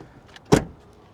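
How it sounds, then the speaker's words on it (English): A single solid thud as the rear door of a 2023 Jeep Grand Cherokee 4xe Overland plug-in hybrid SUV swings shut, close and brief against a quiet background. "Let's hear how this door sounds when it closes."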